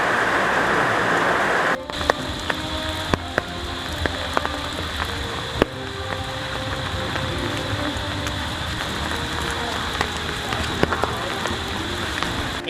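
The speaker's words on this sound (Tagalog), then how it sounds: "bumuhos naman ang malakas na ulan" Heavy rain pours down steadily around a mini campervan on a rural road in Western Visayas, a dense continuous hiss with scattered sharper drops and taps throughout.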